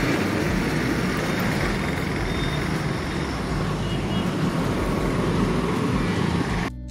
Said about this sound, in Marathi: तसं ट्रॅफिक आहे बऱ्यापैकी